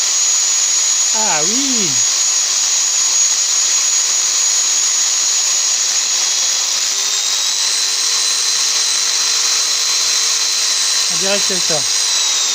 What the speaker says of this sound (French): c'est une disqueuse qui a une vingtaine d'années, qui a certainement bien servi